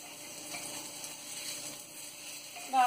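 Crab burger patties frying in a pan give off a gentle, even sizzle, close and quiet, with a slight clatter right at the end.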